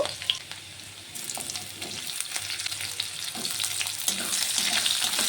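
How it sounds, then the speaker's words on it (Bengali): Onion frying in a pan with chopped garlic and green chilli, a steady crackling sizzle with occasional stirring scrapes, growing slightly louder toward the end, no voices. "প্যাঁচটিকে আমি একটু ভেজে নেব"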